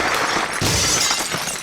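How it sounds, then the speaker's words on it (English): A glass bottle shatters against a pig's head in a full-versus-empty bottle impact test, a loud crash with bright breaking glass followed by tinkling debris, no talk. "the exact speed at which these bottles shatter, both full and empty"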